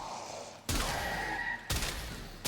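Strun Prime shotgun in Warframe firing two loud blasts about a second apart, each a broad burst that rings on briefly over a quiet game backdrop.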